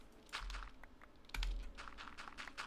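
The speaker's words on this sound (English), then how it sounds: "I can also hear my keyboard clacking" Someone types on a computer keyboard while playing modded Minecraft, making faint, quick clacks in irregular bursts.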